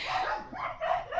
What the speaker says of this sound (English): I don't even know if you can hear me with Titus and Tucker barking